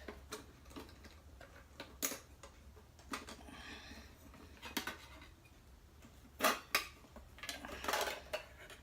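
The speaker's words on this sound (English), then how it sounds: "So he's got a pan to cook with." A metal cooking pan from a bug out bag is handled, giving a few sharp clinks and clattering knocks with quiet pauses between them. The sounds are close and moderately loud.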